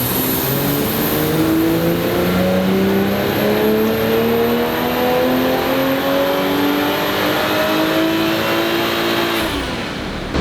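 A 2020 Toyota Supra A90 strains through a fifth-gear dyno pull, its engine note rising steadily and loudly for about nine seconds before cutting off, with no talking over it.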